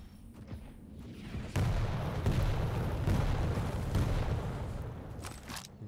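Rocket launcher fire and explosions in a competitive Quake 1v1 match, dense booming blasts layered over continuous game noise, with repeated sharp onsets and a loud rumbling stretch through the middle.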